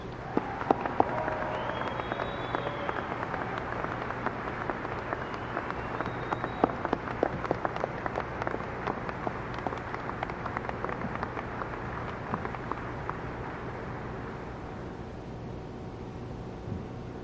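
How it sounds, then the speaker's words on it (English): Sustained applause from a graduation ceremony crowd, a steady dense patter of many hands clapping that continues throughout and tapers slightly at the end. "Please join me in applauding their contributions."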